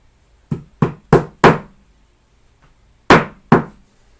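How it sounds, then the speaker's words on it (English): Six sharp hammer blows strike nails into a wooden board, four in quick succession, a pause, then two more, close and clear with no talking. "is nail this down quite well to this board"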